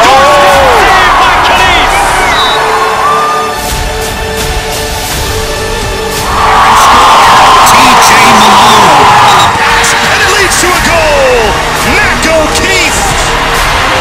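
A crowd cheers and roars at a Penn State lacrosse game, swelling loudly in the middle with whoops and shouts under a play-by-play commentator's voice.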